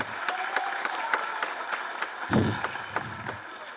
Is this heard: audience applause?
yes